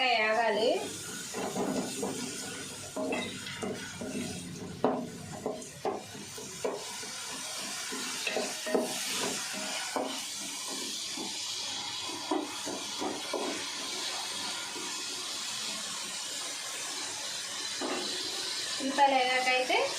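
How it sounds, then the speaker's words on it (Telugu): Onions fry in a pan, a steady sizzling hiss with occasional crackles and spoon clinks as someone talks over it. "ఉల్లిపాయలు కూడా ఎర్రగా వేగాలి."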